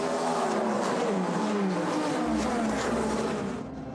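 Porsche and other prototype race cars scream past at the São Paulo WEC endurance race, a loud, dense high-revving engine roar with shifting pitches as several cars blast through together.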